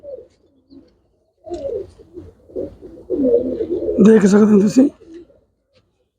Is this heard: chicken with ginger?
no